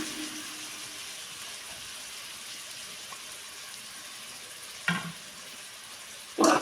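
Grated beetroot frying in a pan, with a soft, steady sizzle running under everything and two brief louder bursts of hissing and scraping near the end as it is stirred or added.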